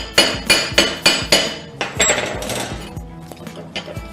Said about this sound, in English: You can do this with a chipping hammer,